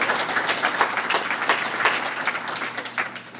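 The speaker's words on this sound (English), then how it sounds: "who I think deserves a round of applause from everyone" Audience applause at a community meeting about saving the Oak Park Jewish Community Center, dense and sustained clapping from a crowd, loud and close, with no speech over it.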